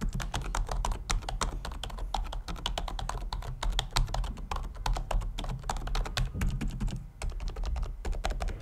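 Fast, steady typing on a quiet Xiaomi MIIIW membrane-switch keyboard, a close, continuous run of soft key taps with a short pause near the end.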